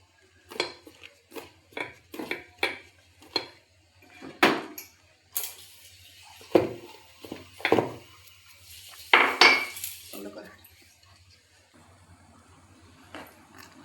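Pakora batter being stirred after a pinch of baking soda goes in, a spoon clinking and scraping against a bowl in a quick run of sharp taps, then slower, louder knocks, close and clear with no talk.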